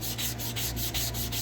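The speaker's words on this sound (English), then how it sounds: "I'm just going to use a sparing amount of water and do some sanding" Steady rubbing strokes of wet sanding on a watch bezel with a small amount of water, a close, continuous scratchy abrasion with a faint regular rhythm throughout.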